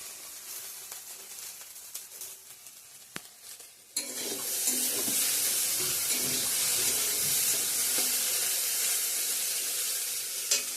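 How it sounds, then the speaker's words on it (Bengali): Okra stir-fries in a pan in a home kitchen at lunchtime. Quiet clinks and light kitchen noises come first, then a loud, steady sizzle takes over and holds for several seconds. "এদিকে ভেন্ডি ভাজাটাও হচ্ছে।"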